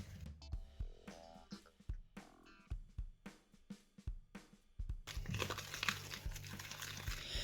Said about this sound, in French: je dois venir mélanger jusqu'à l'obtention d'une pâte